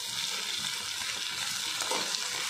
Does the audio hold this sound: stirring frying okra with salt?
yes